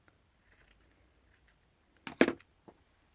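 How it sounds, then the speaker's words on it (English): Scissors snip along the edge of tea-dyed paper in one short, crisp cut, close and fairly loud, with faint rustling before it and a small tap after. "I want to cut a bit more off the edge here"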